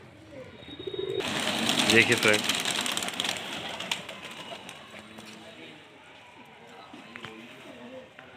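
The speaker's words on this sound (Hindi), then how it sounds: "400-500 कबूतर ये पालते हैं।" Domestic pigeons of Madrasi and desi breeds coo and flutter in a loft of several hundred birds, their murmuring mixed with rustling, while someone talks throughout.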